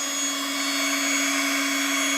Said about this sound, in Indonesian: Kita akan terus mixer sampai hasilnya nanti bisa memuaskan.